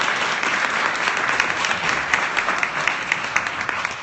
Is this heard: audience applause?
yes